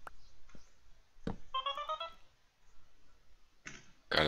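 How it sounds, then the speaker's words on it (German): A phone ringtone plays a short, bright melodic run of stacked electronic notes among scattered clicks and taps, fairly close and not loud, with a voice bursting in at the end. "Geiler Klingelton."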